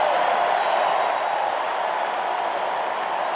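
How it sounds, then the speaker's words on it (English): Tennis crowd at the US Open applauding and cheering in a steady, dense wash of clapping and voices that fills the whole stretch without a break. "the crowd give him a bit of encouragement"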